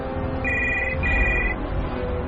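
An outgoing call on a mobile phone rings back twice, two steady electronic tones over a loud low background rumble.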